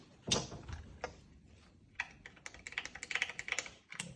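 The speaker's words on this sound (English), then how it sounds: "I like to use a ratchet wrench." A ratchet wrench clicks quietly in a quiet space while hardware is fitted to a Stihl MS 440 chainsaw: a few scattered ticks, then a quick run of rapid clicks, all faint and close.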